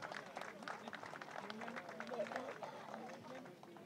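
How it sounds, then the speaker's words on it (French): Spectators applauding at the podium of a cycling race, the Grand Prix d'Isbergues, for the winning rider; scattered, fairly quiet clapping under crowd murmur and voices. "Bravo au champion australien que l'on applaudit une nouvelle fois, William Holmes."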